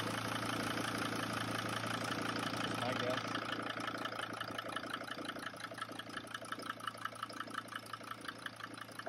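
A Mercedes T1N Sprinter diesel engine idles with a bad injector, giving a steady, loud running drone with rapid ticking and clacking throughout. The sound is close and continuous, with no voices over it.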